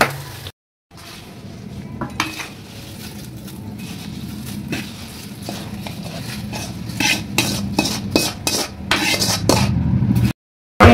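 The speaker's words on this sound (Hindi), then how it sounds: "यहाँ पर मसाला डाल लिया है और अभी इसे करेंगे मिक्स।" Turmeric, salt and chilli powder are stirred in a hot pan over a high flame: a spoon scrapes and clinks steadily against the metal, close and loud, over a soft sizzle.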